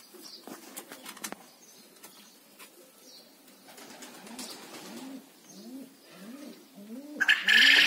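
Pigeons coo in a series of soft, rolling calls from nearby, with scattered wing flaps and light clicks, ending in a louder burst of noise.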